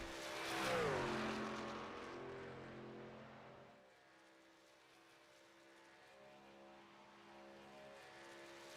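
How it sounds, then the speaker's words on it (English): Stock cars in the iRacing game at Talladega Superspeedway roar past with a swelling, pitch-falling engine pass, then settle into a steady, distant drone of the pack running down the backstretch. "John Buwalda in that number 5 Chevy. Coming down the backstretch into 3 and 4."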